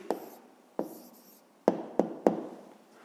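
Pen or pencil marks on paper while writing down a Grade 5 maths answer by hand, heard as five short close taps and strokes spaced irregularly, with brief scratchy rubbing between them and no talk.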